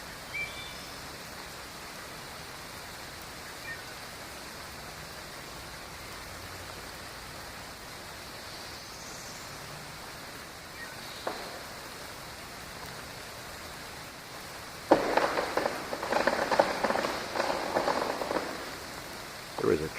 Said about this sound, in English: Listen to the birds in the rain gently singing their melody here this morning around 7:30 on Thursday morning.